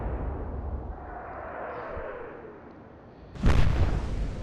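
Warship guns fire in the naval combat game Atlantic Fleet. A low rumbling boom fades over a few seconds, then a sharper, louder blast bursts in near the end and rings on.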